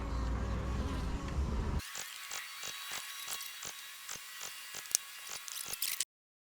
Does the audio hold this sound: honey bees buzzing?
yes